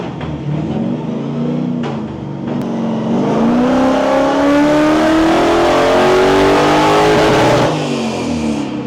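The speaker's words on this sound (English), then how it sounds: "Just gonna listen to one dyno pull." A stock-motor car runs a dyno pull at a car shop, its engine climbing steadily in a loud, continuous rev for several seconds before dropping back off, with no talk over it.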